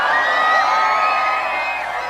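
A dense crowd of Filipinos cheers for Pope Francis's motorcade in the Philippines, with loud sustained shouting and high whoops blending into one continuous roar.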